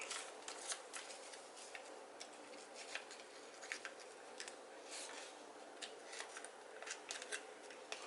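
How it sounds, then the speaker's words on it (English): Scissors snip material during a DIY wood box painting and design project. A series of faint, close cuts and small rustles continues steadily, with no speech. "I'm going to cut it off right there."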